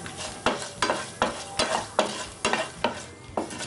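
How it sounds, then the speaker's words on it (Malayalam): Mustard seeds spluttering in hot ghee, a rapid series of sharp pops and crackles over a steady sizzle, close and fairly loud, with no talking. "കടുക് പൊട്ടി വരുമ്പോൾ നമുക്ക് ഇതിലോട്ട് വറ്റൽമുളക് ഇട്ട് കൊടുക്കാം"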